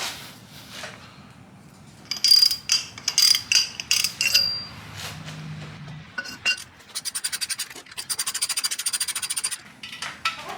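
Ratchet loosening 14 mm header bolts on a car during a turbo build, heard as bursts of metallic scraping and clicking followed by a rapid run of ratchet clicks, close and fairly loud with no talking.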